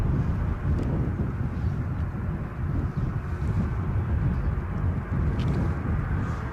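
A KLM airliner moving on the ground at Edinburgh airport, heard as a steady, low rumbling engine roar mixed with gusty wind buffeting the microphone, continuous and fairly distant throughout.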